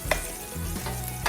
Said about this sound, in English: we're gonna go ahead and remove our meatballs from the pan.